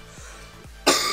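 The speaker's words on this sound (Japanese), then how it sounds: "咳がやばいです、最近。" A single sharp cough bursts out near the end, loud and close, after a stretch of quiet background from a Clash Royale mobile game session.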